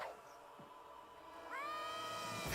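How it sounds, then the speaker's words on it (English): A cat in a retro video game lets out a drawn-out, human-like screaming meow that rises and wavers for about a second, loud and synthetic-sounding over a quiet game backdrop. "listen to the noise this cat makes"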